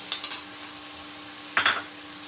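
Curd-laced masala frying and being stirred in a pan for masala bhindi, with a steady soft sizzle broken by a few quick scraping stirs near the start and a louder stir burst later; no one speaks.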